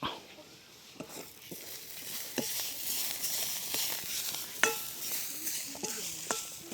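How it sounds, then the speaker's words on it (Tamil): Moringa (drumstick) being fried and stirred in a pan in a village home kitchen: steady sizzling with scraping stirs and occasional utensil clinks on the pan, close by, with faint background voices. "முருங்கையில் அம்மா வறுத்து கொண்டிருக்கிறா"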